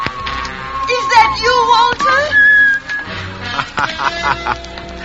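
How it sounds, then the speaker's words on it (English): A man whistles a wavering, familiar tune in a vintage radio suspense drama, the loud, warbling notes rising and sliding alongside other old radio sounds, with a voice briefly heard. "You still remember my whistle, eh?"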